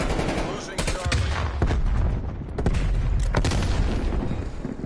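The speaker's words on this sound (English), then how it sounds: "Using flashbang." Rapid automatic gunfire and booming blasts from a Call of Duty Cold War match, with a flashbang grenade detonating amid the loud, continuous firefight.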